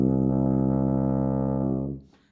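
Tuba playing C with valves 1 and 3 pressed, a single held low brass tone, steady and close, ending abruptly after about two seconds with no voices.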